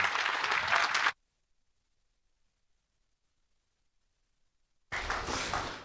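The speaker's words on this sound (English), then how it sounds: "So please give a warm welcome applause to Stefan." A conference audience at a talk critiquing Docker and container tools applauds loudly to welcome the speaker, a dense burst of clapping that cuts off abruptly and is followed by a long silence, then another burst of applause.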